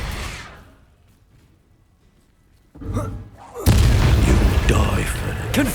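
Bombarda spell explosion in Hogwarts Legacy, a sudden loud booming blast that bursts in after a near-silent pause and rumbles on amid combat noise, following an earlier fading whoosh.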